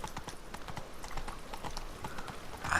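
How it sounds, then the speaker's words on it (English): Horse hooves clip-clop down stone stairs in The Witcher 3, a quick uneven series of sharp close knocks over a soft ambient background, with no talking. "Just a horse using the stairs."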